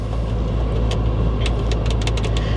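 A Bentley Continental GTC with about 90k miles idles steadily and loudly, a close, continuous low engine rumble with a few faint ticks over it and no talk.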